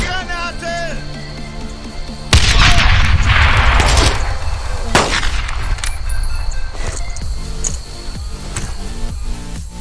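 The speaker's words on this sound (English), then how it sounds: "Throwing grenade!" A grenade blast in the World War II shooter Brothers in Arms: a sudden loud boom with a wide burst of noise, then a second sharp crack and scattered gunfire over a steady music bed.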